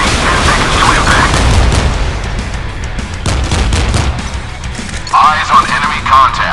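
Missile impact explosions and heavy gunfire in the naval combat game Modern Warships, with the JS Mogami in online battle; loud sustained booms and crashes fill the scene, with bursts near the end and radio voices heard beneath.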